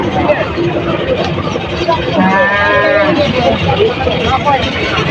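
Cattle low repeatedly over a busy crowd at a village cattle market with many cows and bulls for sale, the moos rising out of steady chatter and market babble.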